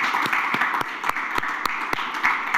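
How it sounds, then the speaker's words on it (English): Audience applause after a panel discussion at a conference: a steady wash of clapping from many hands, moderately loud and even throughout, with a few sharper individual claps standing out. "please join me in applauding the interventions"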